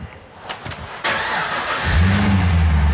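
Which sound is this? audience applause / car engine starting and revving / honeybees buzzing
car engine starting and revving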